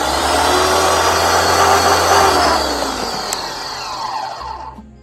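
An Arnak pressure washer motor runs loud and close, a dense, roaring mechanical drone with hissing spray that holds steady, then slowly eases off toward the end.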